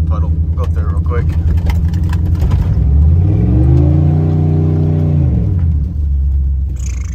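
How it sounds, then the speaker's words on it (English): Pickup truck rolling down a dirt road through a mud puddle, steady loud engine rumble and tire noise close by, with the engine pitch rising and falling as it pushes through the water, a brief voice near the start. "So we're rolling down this dirt road. Here's another puddle. We'll go through it real quick."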